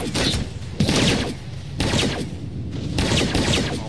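Enemy gunfire in the video game Eisenhorn Xenos comes as rapid, dense bursts of automatic shots in three loud rattling volleys with brief pauses between them.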